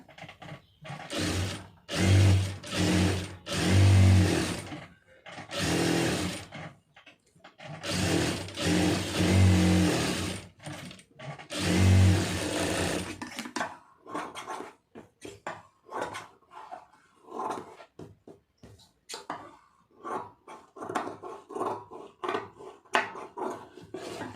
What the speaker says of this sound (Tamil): கரெக்டாக அந்த ஓரத்தில் தையல் போட்டுருங்க